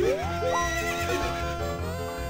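A horse neighs loudly in Zelda: Ocarina of Time, a shrill whinny that wavers and falls, over a steady low game soundtrack.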